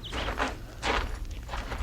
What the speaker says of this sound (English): Take care of the horse and buggy, Jenkins.